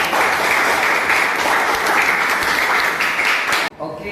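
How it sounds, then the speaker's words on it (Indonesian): Steady, dense applause from a group in a classroom fills the room for several seconds, then quickly dies away. "Silakan berikan tepuk tangan kepada"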